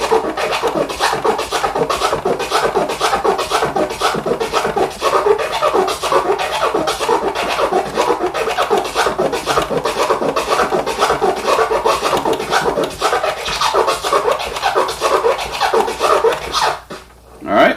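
Rapid rhythmic turntable scratching of a record using crescent flares, choppy repeated strokes with clicking cuts, loud and close, running continuously.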